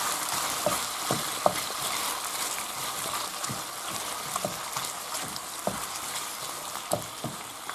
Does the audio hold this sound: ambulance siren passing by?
no